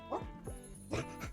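A small cartoonish dog in the cozy game Tiny Bookshop gives a few happy yips and short barks while being petted, close and fairly soft, with brief gaps between the sounds.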